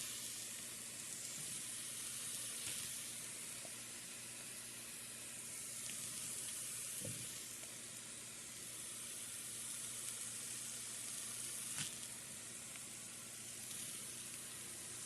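Portabella mushrooms grilling in a pan give off a steady, continuous sizzle throughout, with occasional soft clicks and scrapes of small tongs and no talking.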